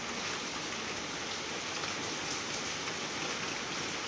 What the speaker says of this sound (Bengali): কত বৃষ্টি হচ্ছে, কত বৃষ্টি,